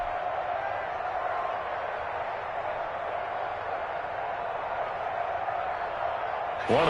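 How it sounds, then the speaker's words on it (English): A stadium crowd cheers at a video game football match as a big 3rd down approaches, a steady dense roar held at even loudness throughout, with a brief sharper sound at the very end. "the crowd getting into it as we come up on a big 3rd down"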